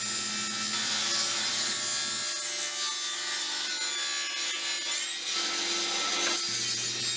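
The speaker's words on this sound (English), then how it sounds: "I cut a 45-degree mitre along the length of what are to be the side pieces" A hand saw cuts a 45-degree mitre along a plywood side piece, with a steady, close rasp of back-and-forth strokes running throughout, broken only by brief shifts in pitch and pace.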